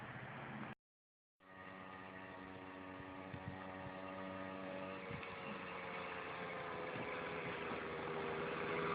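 A motorized bike's small engine drones steadily at a distance and slowly grows louder as it approaches, with one brief drop to silence near the start.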